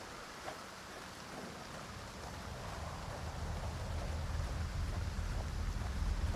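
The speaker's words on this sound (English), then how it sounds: "It's so relaxing to listen to the rain." Rain in the S.T.A.L.K.E.R. 2 video game, a steady broadband wash of falling drops with a low rumbling undertone that swells gradually louder, no voices over it.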